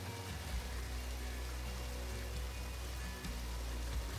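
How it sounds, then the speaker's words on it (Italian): Lower Falls waterfall in Wyoming crashing onto rocks, a dense steady roar of rushing water with deep rumble, continuous and loud with no voices. "il fragore dell'acqua che si schianta sulle rocce si sente a chilometri di distanza"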